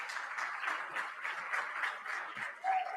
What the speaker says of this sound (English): give them an extra special round of applause as they come